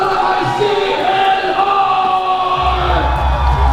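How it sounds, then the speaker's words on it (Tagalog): Audience at a live comedy show cheering and yelling for a performer, a loud continuous roar of many voices with whoops and shouts, close and sustained for several seconds. "Malakas na palakpakan at sigawan para kay"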